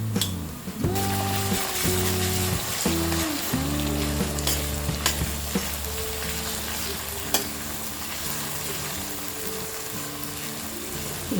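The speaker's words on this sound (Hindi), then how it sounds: "इसे हम लहसुन का कच्चा फ्लेवर जाने तक फ्राई करेंगे।" Garlic and ginger sizzle steadily in a hot pan for soya keema, a continuous close frying hiss with occasional stirring scrapes and clicks, no talking.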